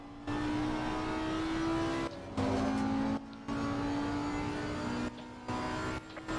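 A high-pitched V12 race car engine in a racing video game screams through long sustained pulls, cutting off briefly between gear shifts and rising again, loud and close.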